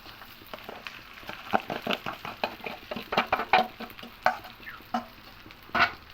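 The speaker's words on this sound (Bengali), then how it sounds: "চালটা দিয়ে খুব ভালো করে ভাত ভেজে নেবো" Rice is stir-fried in a pan with raisins for basanti pulao: a busy stream of scraping stirs and light sizzling taps, close and moderately loud, with irregular sharper clacks of the spoon against the pan.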